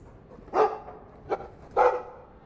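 A Mabari war dog in the Dragon Age 2 video game gives three short, close barks, two fuller and one quicker yip between them, with nothing else going on.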